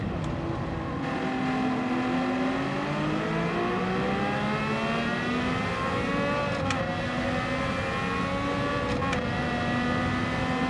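Honda RA272 Formula One race car engines in Gran Turismo 7, a wet-track lobby race, whine continuously at high revs with several cars' engines layered and shifting pitch together, loud and steady throughout, with no talk.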